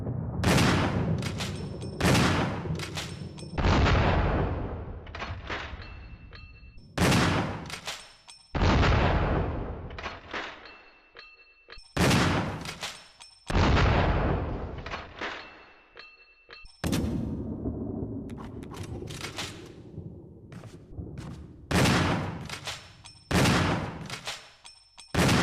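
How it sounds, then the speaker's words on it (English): Twelve-gauge shotgun blasts in Resident Evil REmake, about a dozen loud, booming shots fired one after another with short pauses between them, each followed by a brief decaying tail. "now let's see if there's a damage difference between this shotgun"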